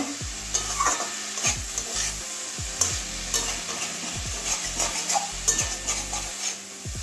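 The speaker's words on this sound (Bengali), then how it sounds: "এখনো আরেকটু ভাজবো, একটু কড়া করে ভাজবো।" Cauliflower sizzles steadily as it fries in a pan, and a spoon scrapes and stirs it in repeated close strokes over the hiss.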